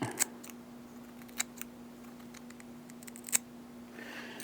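A repaired beauty shear cuts hair in a few crisp, close snips spaced apart, with a steady low electrical hum underneath and no talking.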